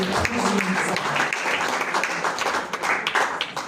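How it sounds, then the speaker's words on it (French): An audience at a women's coalition gathering applauds Madame Muriel Pierre with loud, close clapping that continues unbroken, some scattered voices mingled in the crowd sound. "Un tonnerre d'applaudissements pour Madame Muriel Pierre."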